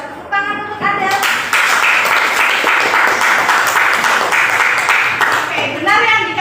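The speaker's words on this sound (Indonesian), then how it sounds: "Tepuk tangan untuk Adel." Classmates clapping for a student named Adel in a school classroom, a dense burst of applause running for several seconds, with a teacher's voice speaking at the start and end.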